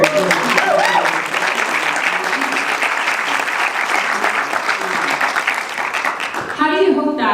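An audience at a book talk applauds, a full steady round of clapping that fills most of the clip, with a voice briefly heard at the start and speech resuming as the clapping fades at the end.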